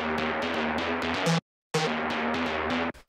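A buzzy, aggressive wavetable synth patch for electro plays a rhythmic pattern of bright, gritty notes with filter movement, cut by a short gap of silence before the phrase repeats.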